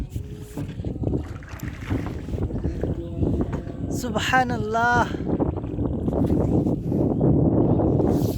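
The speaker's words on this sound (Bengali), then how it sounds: "অনেক বাতাস।" Strong wind buffets the microphone in a Bangladeshi village in the afternoon, a steady broadband roar that swells toward the end, with someone talking briefly over it and a sustained call to prayer rising in the distance.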